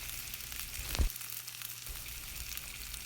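Chopped onion and garlic fry in a pan with cumin seeds, a steady close hiss and crackle of oil with a brief louder clatter near the start, continuous throughout.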